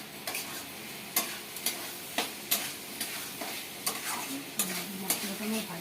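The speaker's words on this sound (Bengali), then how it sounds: "মশলাটা আমার ভাজা হয়ে গেছে।" Spices frying for vegetarian pea ghugni, stirred in a pan: a steady close sizzle broken by roughly a dozen sharp scraping strokes of the spoon at an uneven rhythm, with no voice.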